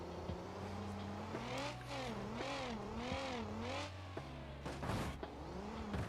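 Car engine in the BeamMP driving game, a Lansdale on a derby oval, revving up and down in repeated wavering surges, with a gear-shift drop midway and a brief bump near the end, loud and continuous with no talk.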